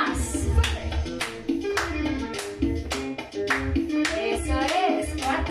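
Rhythmic hand clapping in a Latin dance fitness class, steady claps on the beat laid over loud cumbia-style music with a thumping bass line, no talking over it.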